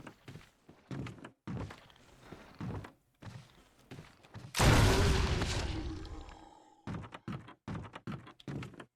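A grenade launcher fires in Resident Evil Remake: a loud burst lands midway and decays over about two seconds, set among quieter intermittent thuds and footstep-like taps before and after.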